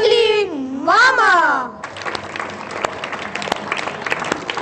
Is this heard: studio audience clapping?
yes